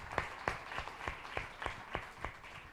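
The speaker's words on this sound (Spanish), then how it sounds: "aplauso por favor." A conference audience at an impact investing event greets a speaker with applause, heard here as sparse, evenly spaced claps at a quiet level, more like a few hands than a full crowd.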